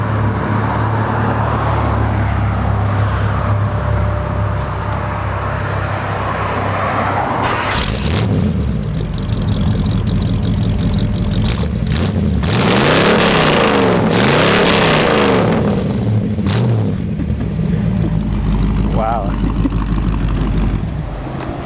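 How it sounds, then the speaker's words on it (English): A 1959 Ford Edsel Ranger engine with glasspack mufflers rumbles at a steady idle, then revs up several times in loud, throaty bursts before settling back, heard close from behind the car. "Glasspacks give it a very distinct sound."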